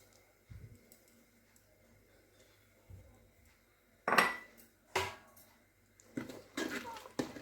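A spoon scrapes and knocks against a pot while phirni of rice flour and khoya is stirred, giving a few sharp metallic clinks over a quiet background.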